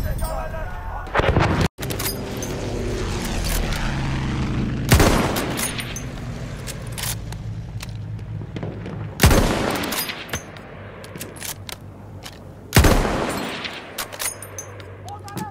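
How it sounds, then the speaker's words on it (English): Battlefield 1 gameplay with an enemy machine gun firing amid heavy wartime battle noise: loud booming blasts and gunfire bursts recur every few seconds over a constant rumbling background. "An enemy machine gun over there."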